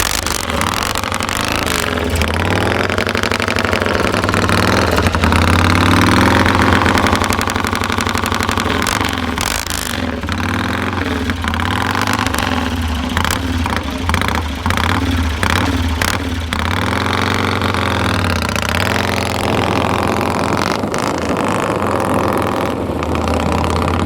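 A racing motorcycle with Hagon shocks and Motad rims runs loud and close before its first qualifying run, holding a steady throbbing idle with repeated blips and revs rising and falling throughout.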